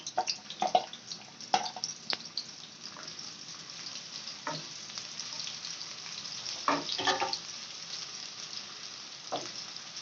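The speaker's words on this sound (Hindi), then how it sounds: "हम पहले प्याज फ्राई करेंगे।" Onions frying in a pan, a steady soft sizzle with scattered crackles and a few louder pops and stirring scrapes, close and moderate in level with no talking.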